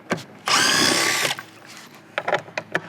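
A power drill removes lag bolts from a wooden crate holding a Karl Kustoms crate engine, one loud sustained whir of just under a second, followed by a few sharp knocks and clatters close by.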